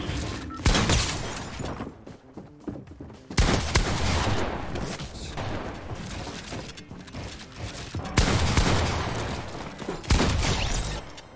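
Shotgun blasts in a shooter video game played on a controller, several loud booming shots spaced apart over a dense layer of game noise.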